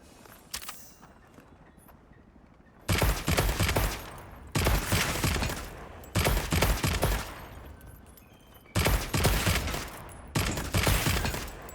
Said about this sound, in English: And shoots 1 pound brass bullets.